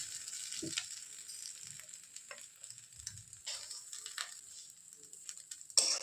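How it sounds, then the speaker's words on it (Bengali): Egg and onion masala frying in a wok while being stirred, a faint sizzle with sparse scrapes and soft taps of the spatula, quiet and close, ending in one sharper clink. "এটাকে পাঁচ মিনিট মতো অনবরত নাড়তেই থাকবো যাতে এটা ভালোভাবে ভাজা হয়ে যায়"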